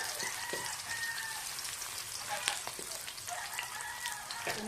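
Garlic and onion sizzling in a hot pan, a steady crackling fry with scattered pops and spatters, close and fairly quiet, no talking.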